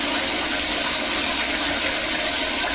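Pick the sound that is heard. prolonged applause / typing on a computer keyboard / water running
water running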